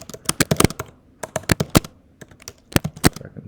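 Bursts of keystrokes on a computer keyboard while coding a Rust solution, irregular clusters of sharp clicks with brief pauses between them, close and fairly loud, with no talking.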